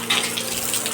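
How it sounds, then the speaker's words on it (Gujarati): Rainwater pours and splashes off a handcart filled by rain leaking through a torn paper cover overhead, a steady close gushing stream with no talking. "હા જો લારીમાંથી પાણી પડે"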